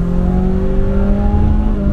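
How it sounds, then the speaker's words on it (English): An Opel Kadett GSi 16V with the 20XE engine revs up close and loud, its steady mechanical drone climbing gently in pitch throughout. "when the revs come up,"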